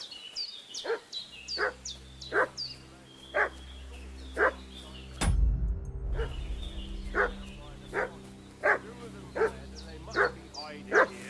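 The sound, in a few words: dog barking in the video game Kingdom Come: Deliverance II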